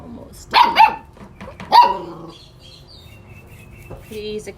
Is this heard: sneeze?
no